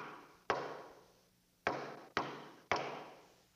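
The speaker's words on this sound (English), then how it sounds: "It's a secret pass knock." A secret knock on a door: four sharp, close raps with uneven spacing, one alone and then three in quicker succession, each ringing out briefly in a quiet room.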